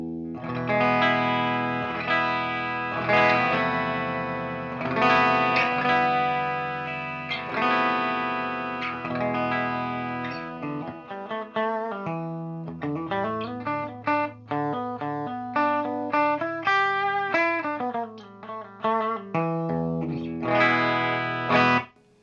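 Clean electric guitar played straight into the amp without the Boss SD-1 Super Overdrive pedal, sustained strummed chords followed by a run of picked single notes and a final chord, clear and ringing with no voices.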